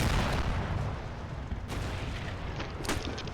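Distant sniper and rifle gunfire from a realism tournament video game match, with a steady rumble of battle ambience and a couple of sharper shots standing out near the end.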